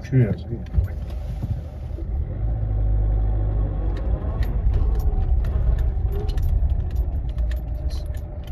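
An old, rough-running car creeps slowly along a dirt path, its low engine rumble and rattling body steady and close throughout, with voices talking over it.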